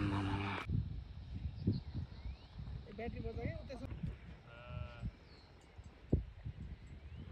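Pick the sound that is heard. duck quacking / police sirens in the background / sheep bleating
sheep bleating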